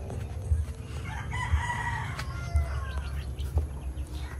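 White Kelso chickens, a pure-bred hen with nine chicks, on a farm in rainy Bohol, with a rooster crowing and soft clucks and peeps over steady low background rumble, fairly close.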